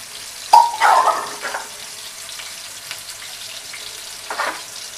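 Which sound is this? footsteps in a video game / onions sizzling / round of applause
onions sizzling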